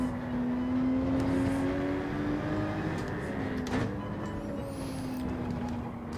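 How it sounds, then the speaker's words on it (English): Race cars at Road Atlanta in Gran Turismo 7, a steady engine drone with a sustained whine, one car briefly sweeping past midway, no talk. "the cars all sound different as they're either behind you or come past you in front"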